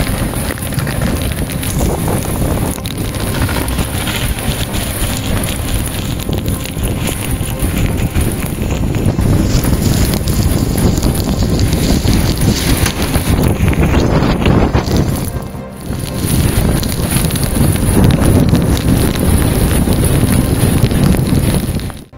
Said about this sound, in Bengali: গোসাবায় প্রবল ঝড় বৃষ্টি আর তার জেরে বিদ্যাধরী নদীতে আটকে গেল যাত্রীবাহী নৌকো